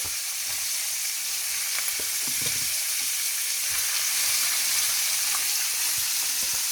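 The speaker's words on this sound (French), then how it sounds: "je fais revenir mon lapin dans du beurre et de l'huile" Rabbit pieces (kidneys, thighs, shoulders) browning in butter and oil in a pan give a steady, close, bright sizzle with light crackles and occasional stirring bumps, heard alone without talk.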